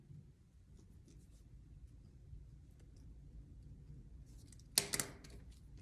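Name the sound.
drawing around a template on fabric with a friction pen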